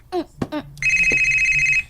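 A mobile phone rings with a steady electronic tone that starts partway in and holds loud and close, after a few short vocal sounds.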